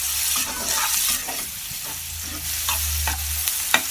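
Eggplant pieces fry in hot oil in a pan and are stirred, with close, steady sizzling and repeated scraping strokes of a spoon, no voices.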